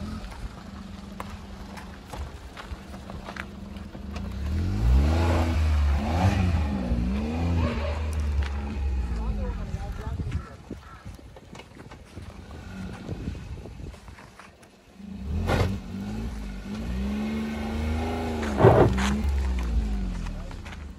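A Maruti Suzuki Alto's engine revs and strains as the car rolls over small potholes and bumps, the pitch rising and falling in several surges at close range, with a brief lull midway.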